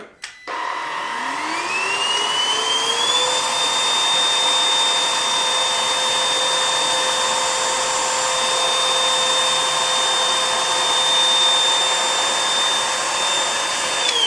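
A Dibea M500 vacuum cleaner spins up with a rising whine and then drones at steady full power as it sucks salt from along the floor edges. The motor tone stays loud and constant throughout, with no talking.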